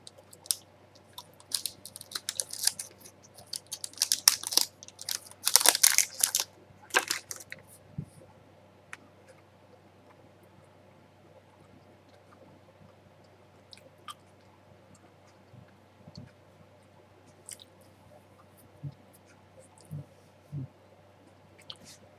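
Biting into a dense Unjury brownie protein bar gives a few close, crunchy chewing bursts early on, then quieter scattered mouth sounds over a soft background.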